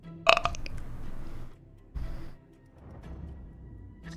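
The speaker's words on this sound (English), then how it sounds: "Did you just burp" A single short, loud burp near the start, followed by quieter room noise and a brief rustle; no talking.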